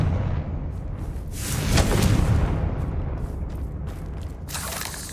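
The Confringo spell explodes in the video game Hogwarts Legacy, giving a heavy, rumbling blast with a swelling boom and debris noise that fades out, with no talk over it.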